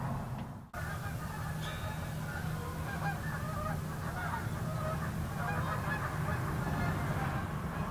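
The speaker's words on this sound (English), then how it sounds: "There's a lot of geese out there." A large flock of geese honks continuously outdoors, a steady overlapping chorus of calls at moderate distance that runs for the whole stretch without any talking.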